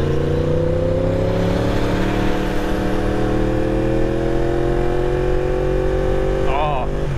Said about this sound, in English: Oh, that Gixxer is flying.